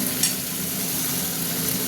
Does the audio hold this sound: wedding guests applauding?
no